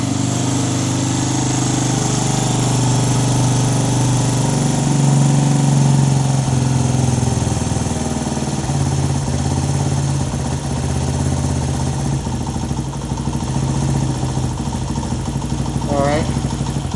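A 1975 Honda XL125 motorcycle engine runs at a rough idle with a little throttle held to keep it going, a continuous close mechanical drone with slight swells.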